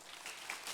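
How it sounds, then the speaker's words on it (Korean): A burst of applause from a church congregation during a worship service, steady clapping lasting under a second. "멕시코에서 김학희 선교사님, 예, 박수하겠습니다."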